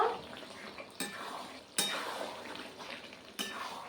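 Mutton curry sautéing uncovered in a pan, a spatula clanking against the metal in a few sharp scrapes over a steady sizzle.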